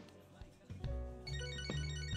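A phone ringtone in the video game Catherine: Full Body, a steady electronic melody that starts partway through and keeps ringing loudly over a low background.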